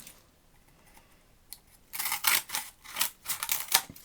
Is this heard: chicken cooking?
no